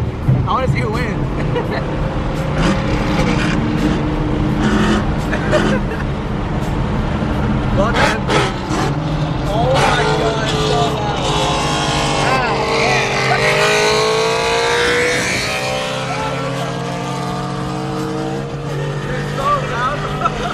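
Twin-turbo Lamborghini engine revving loudly and continuously, its pitch sweeping up and down in rising and falling pulls, with excited voices talking over it.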